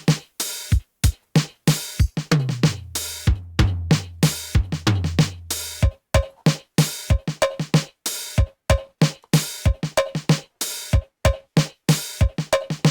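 A punchy drum pattern repeats steadily, with sharp hits moving between low booming drums and brighter ones in a driving rhythm.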